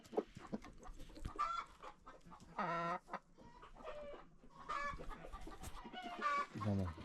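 Chickens and roosters on a farm cluck and call in repeated, uneven bursts, some calls drawn out and some short, close by with quiet gaps between them.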